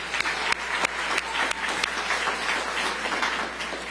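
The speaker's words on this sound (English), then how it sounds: "Let's give them a round of applause." A crowd applauds at a New York City mayoral announcement event, giving sustained, fairly loud clapping with a few sharper individual claps standing out over about four seconds.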